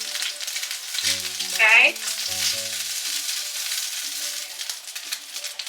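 Butter sizzling steadily in a hot pan that still holds cooking oil from Chicken Fettuccine Alfredo, a continuous close frying hiss, with a brief spoken word and faint clatter of the pan part way through.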